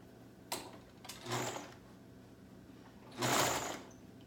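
A sewing machine stitches a sleeve seam on a high-low garment in short bursts: a brief run, a second longer run, then a final steady burst after a pause, close and clear.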